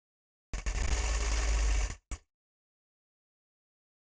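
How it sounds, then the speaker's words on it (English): A vintage Singer sewing machine stitches in one steady burst of about a second and a half, then gives a brief second whir before falling silent, close and clear with no talking. "So how many of you like sewing on the old vintage machines?"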